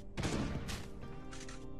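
Machine-gun fire in a zombie video game set in a laboratory: dense, loud bursts of rapid shots that run almost continuously, with short breaks between volleys.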